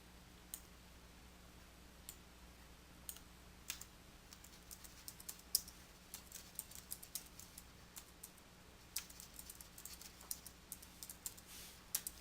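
Quiet, irregular clicks of typing on a computer keyboard, scattered keystrokes in uneven bursts over a faint steady background hum, with no talking.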